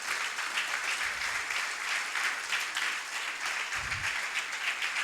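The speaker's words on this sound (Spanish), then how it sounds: "¿Merece un aplauso el Señor o no?" A church congregation breaks into steady, dense applause that fills the space for several seconds, loud and continuous with no talk over it.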